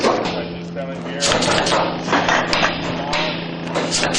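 Nails are hammered into an exterior wall corner angle, heard as a run of sharp, fairly close impacts mixed with busy workshop noise, under ongoing talk.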